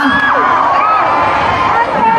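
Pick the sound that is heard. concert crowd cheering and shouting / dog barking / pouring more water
concert crowd cheering and shouting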